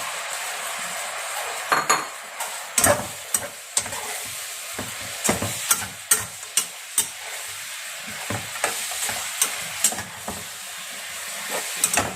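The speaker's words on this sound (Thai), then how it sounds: "อันนี้เราใส่กระดูกหมูที่เราต้มไว้นะคะลงไปผัดเลยค่ะ" Boiled pork bones stir-fried in a pan with pineapple, giving a steady sizzle broken by repeated sharp clanks of a utensil against the pan, close and fairly loud, with no talking.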